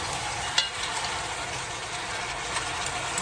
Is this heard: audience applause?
no